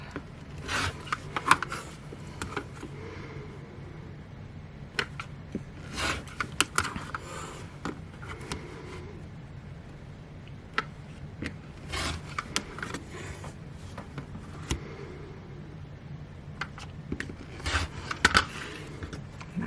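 Quilting fabric is cut on a mat with steady soft rasping and rubbing strokes. Small clicks and taps come at intervals, and no one speaks over the close, fairly quiet work.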